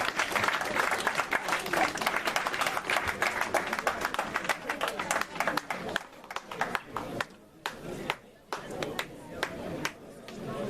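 A congregation at a consecration and coronation ceremony breaks into dense, sustained applause close by, later thinning into scattered bursts of claps, with voices mixed in.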